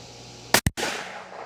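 Two rifle shots with Hornady ELD-X ammunition, a sharp loud crack quickly followed by a second, both close, over faint outdoor background.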